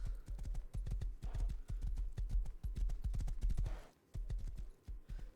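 Horse hooves gallop in the survival video game Rust, making a rapid, rhythmic clip-clop that stays close and fairly quiet, with a brief pause near the end.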